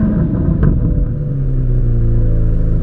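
A Chevrolet C8 Corvette Z06 engine fires up with a sharp bark, then settles into a loud, deep, steady idle rumble close by.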